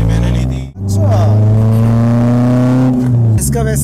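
A petrol Toyota sports car running on high-octane fuel revs hard and close. Its engine note climbs steadily as a loud, rising whine, then drops briefly near the end, as if shifting gear.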